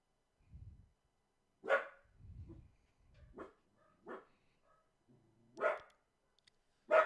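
A dog barks in short separate bursts, about five or six sharp woofs spaced irregularly with quiet gaps between, moderately close in a quiet room, no talking.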